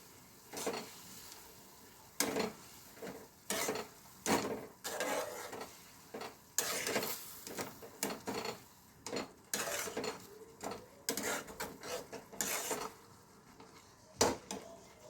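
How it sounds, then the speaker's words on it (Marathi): A spoon stirs a cucumber vadi mixture in a pan as it comes to a boil. It makes steady, repeated scraping strokes against the pan, close and fairly loud, with no talking. "व्यवस्थित मिक्स करायचं आहे।"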